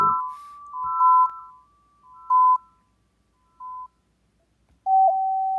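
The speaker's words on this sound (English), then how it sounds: "you hear it echo once and then it's very low" A tone from a xylophone app plays with a short echo, a clear chime followed by a few repeats that fade quickly, then a new, lower note rings alone in quiet.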